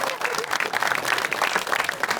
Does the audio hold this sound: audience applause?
yes